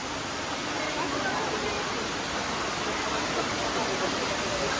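An indoor waterfall in the Cloud Forest dome at Gardens by the Bay pours in a dense, even roar that holds steady from start to finish.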